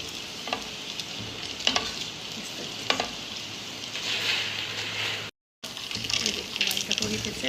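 Dough katori cups for katori phulki chaat fry in ghee, giving a steady close hiss and sizzle with occasional clinks and stirring scrapes, broken by one brief silent gap.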